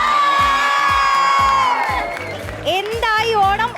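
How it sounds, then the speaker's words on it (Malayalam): Students at a college Onam celebration cheering and shouting together in a loud, sustained crowd roar, with whoops and a voice calling out over the noise. "ഇതാണ് ആരവം"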